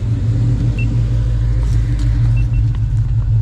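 A deep, loud Coyote V8 engine in a swapped SVT Cobra Mustang rumbles steadily up close, a throaty low growl that holds at a constant level throughout.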